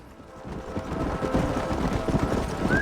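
Steady clip-clop of a horse's hooves in the western game Red Dead Redemption, a continuous rhythmic trot over a rushing wind-like background, no voices.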